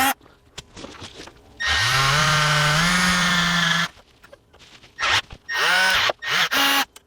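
A power drill bores holes in a Torqueflite 904 transmission plate, running in one long loud whirring burst followed by several short quick triggers, close to the listener with quiet pauses between.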